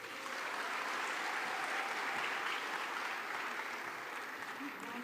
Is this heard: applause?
yes